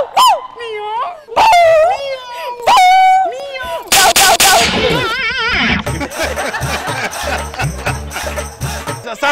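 Dogs barking, whining and howling in rising and falling cries on a Telugu comedy TV show, loud and close, with a voice over them, then giving way to music and clatter.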